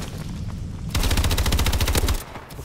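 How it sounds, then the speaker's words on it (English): Sustained rapid bursts of light machine gun fire in Call of Duty: Advanced Warfare, loud and close, starting after a brief lull and rattling continuously for over a second before cutting off. "I just shoot both LMGs at the same time."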